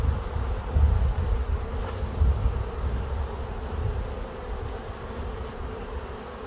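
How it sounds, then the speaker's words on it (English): Honeybees in an opened beehive buzz in a dense, steady drone close by, swelling slightly at moments and with no voices present. "We've got a lot of bees"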